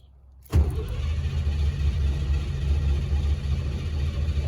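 A 1955 Chevrolet engine cranks over steadily without catching, a loud continuous low rumble that starts abruptly after a brief quiet moment and churns on alone.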